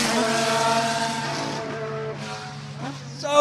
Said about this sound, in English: If you're watching the stream and you've never heard a proper, classic Formula One car go past you, it's like nothing before.